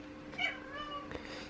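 A faint cat meow, drawn out and a little plaintive, heard at a distance in a quiet room.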